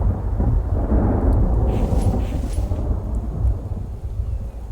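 Heavy rain and rolling thunder in The Infected survival game, a steady loud downpour with deep booming rumbles that swell and fade over a few seconds, with no voices.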